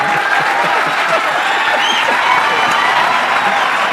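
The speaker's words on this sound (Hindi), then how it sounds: "जो अभी तालियां बजा रहे थे" A podcast studio audience claps steadily throughout, a dense even patter of applause filling the whole stretch, with faint voices beneath.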